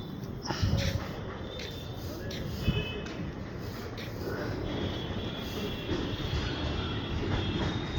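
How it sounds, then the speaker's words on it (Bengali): A metro train runs past on the New Garia line at night with a rolling rumble and faint wheel squeal, moving from mid-distance to near. Scattered clicks and knocks punctuate the steady noise, and there is no clear speech. "মেট্রো রেল আসছে ওপার দিয়ে"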